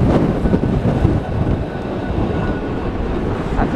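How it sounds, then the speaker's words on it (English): A heritage tram rumbles past close by in Blackpool during Storm Dudley, a steady low mechanical roar with rattling and squealing of wheels on rails, with no voices. "There we go, heritage tram."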